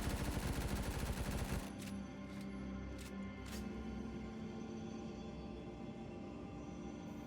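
Rapid bursts of MP5 submachine gun hip fire in a video game: dense automatic shots for the first second and a half, then scattered single cracks over a steady ringing tail.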